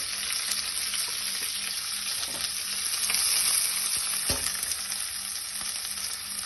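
Steady sizzling of onions frying in a hot pan, a continuous crackling hiss with occasional stirring scrapes and a soft clunk, no voices.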